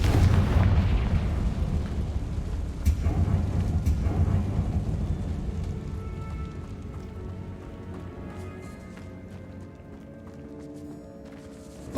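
Spell blasts from Confringo and Bombarda in the video game Hogwarts Legacy thump and burst at irregular intervals, loud at first with a sharp crack around the third second, then fading into a quieter rumbling tail.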